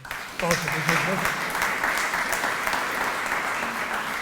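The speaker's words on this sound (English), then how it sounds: "I think that deserves a round of applause" An indoor audience at an art show print unveiling in Louisville breaks into applause, a dense burst of clapping that starts abruptly and holds steady, fading slightly toward the end with faint voices underneath.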